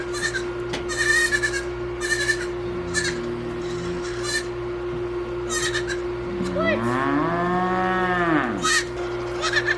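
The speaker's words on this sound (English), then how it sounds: "So you can hear some mooing in the background." Cattle moo loudly several times over a steady low hum, with a long drawn-out call near the end; other farm animal calls sound in the background.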